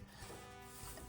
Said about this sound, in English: the sound of me almost stabbing myself with the pencil and doing it again